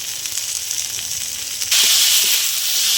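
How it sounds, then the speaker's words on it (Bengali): Spice paste of coriander, cumin, red chili and turmeric sautés in an oil-filled pan, a close, steady sizzle that suddenly jumps louder and harsher partway through, then holds as a bright frying hiss. "ভালো করে কষে নেব।"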